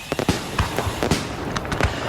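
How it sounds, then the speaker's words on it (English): Virtual fireworks sound effect played on a radio show, a quick volley of sharp crackling pops and bangs in an irregular burst, loud and close, with no talk over it. "virtual fireworks, please"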